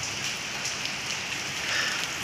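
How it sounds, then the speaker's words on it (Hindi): Heavy rain pours down outside, a steady dense hiss of drops hitting surfaces, loud and unbroken with no voices. "ये देखिए ये कितनी तेज़ बारिश है"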